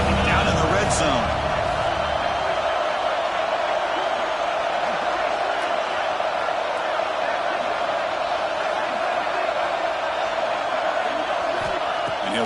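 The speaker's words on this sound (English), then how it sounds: "And the crowd coming to life here, trying to help this defense down in the red zone." A football video game crowd roars steadily throughout, a dense, sustained cheer from a stadium full of fans as the home defense holds in the red zone, with commentary-style voices mixed underneath.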